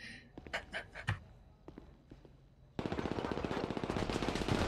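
GTA V gunfire is shot into a door. A few scattered sharp shots come first, then sudden sustained rapid automatic fire hammers away, loud and dense.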